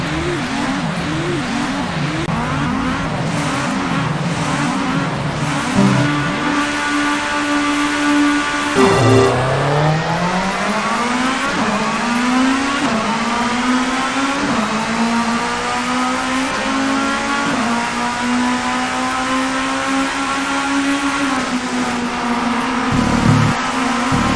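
Honda Accord race car in Toca 2 Time Attack at Brands Hatch, engine revving loud and continuous through gear changes, pitch climbing and dropping steadily as it laps, no talk.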